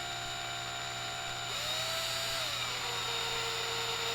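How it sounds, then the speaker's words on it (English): A variable speed power drill whirs steadily at low speed, its pitch shifting slightly midway as it bites into a plastic jar, with a constant hum throughout. "If you got a variable speed drill, just keep it on low."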